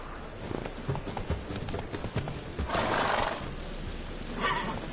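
Roach the horse galloping in The Witcher 3, hooves clip-clopping in a quick steady rhythm close up, with a neigh and a swell of rushing noise partway through, no talking.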